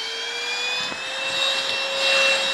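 TNTONLIFE VC812 cordless rechargeable vacuum cleaner running close by with a steady, high-pitched motor whine and airy rush that holds level throughout.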